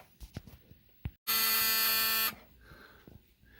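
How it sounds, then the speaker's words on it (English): A harsh electronic buzzer sounds once for about a second, loud and flat, between quiet clicks and handling noises, in a 1974 Alfa Romeo. "That's the annoying buzzer"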